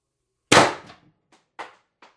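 A single loud X-68 Storm Trooper blaster shot snaps out sharply and close, followed by a few faint rattling clicks from the mechanism.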